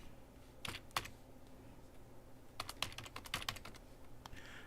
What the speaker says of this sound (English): Got to get my typing back together.